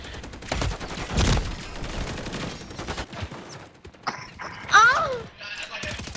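Gunfire in the Warzone game, with loud sharp shots and mechanical clatter mixed with weapon handling noises, a few separate bursts over several seconds and a voice heard briefly.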